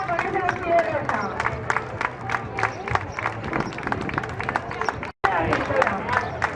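At a fashion show in Nueva de Llanes, the audience claps in a steady, fairly close rhythm amid crowd murmur, broken by one brief dropout before the clapping resumes.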